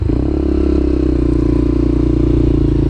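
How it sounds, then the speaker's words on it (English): A motorcycle engine drones steadily and loudly at close range during CBT rider training, holding an even throttle with some clatter underneath. "as I come round here, I'm going to increase the speed, throttle off, front brake, back brake, and a nice smooth stop"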